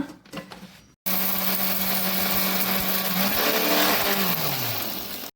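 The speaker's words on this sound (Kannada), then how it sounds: "ಇಲ್ಲೀಗ ನಾವೊಂದು ಮಿಕ್ಸಿ ಜಾರ್ನಲ್ಲಿ ಪೌಡರ್ ಮಾಡ್ಕೊಳ್ಳೋಣ" A mixer grinder jar spins up abruptly to a loud, steady whir while grinding green gram into chutney powder, then its pitch sags and winds down toward the end after a few quieter clatters beforehand.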